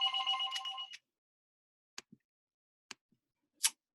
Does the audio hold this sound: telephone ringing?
yes